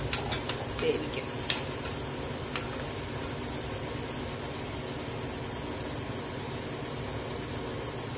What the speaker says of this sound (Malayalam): എന്നിട്ട് ഇളക്കിയിട്ട് ഇങ്ങോട്ട് മൂടി അടച്ച് വേവിക്കും.